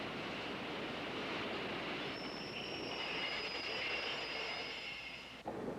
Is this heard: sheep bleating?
no